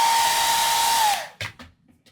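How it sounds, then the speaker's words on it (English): A hair dryer blows steadily, drying adhesive glue applied for drag makeup, then switches off and spins down, leaving a few soft handling knocks. "A hairdryer is the best when it comes to drag makeup."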